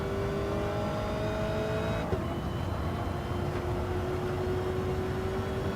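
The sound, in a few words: race cars speeding in a racing video game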